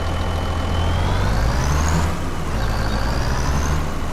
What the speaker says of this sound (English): Let me pull the truck up so we get out of the way.